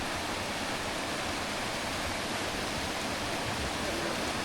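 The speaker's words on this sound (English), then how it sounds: "Waterfall right there." Waterfall on the Riverside Walk in Zion National Park, Utah, in November: a steady, loud broadband rush of falling water that fills the whole clip without pause and with no voices.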